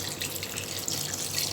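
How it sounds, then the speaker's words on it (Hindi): Water, about two glasses, poured into a cooking pot for an Arabic vegetable thareed, a steady close splashing stream running throughout with no talk. "अब इसमें मैं ऐड कर दूंगी पानी"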